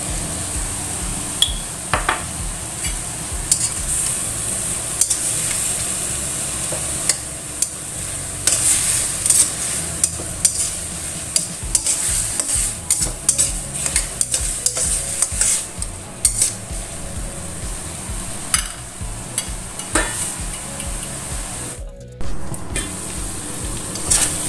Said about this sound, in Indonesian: ini sudah benar-benar ditumis